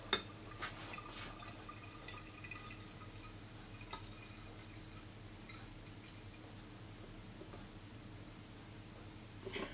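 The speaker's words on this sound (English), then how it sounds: "step two, pour in your oil." Vegetable oil is poured into a methanol and sodium hydroxide mixture, a faint and quiet liquid trickle broken by soft drips and light glassy taps.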